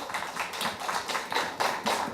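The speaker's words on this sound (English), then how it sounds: "A big round of applause," Audience clapping after a student's presentation at a youth English presentation contest, a steady broadband patter of many hands at moderate loudness with no voices over it.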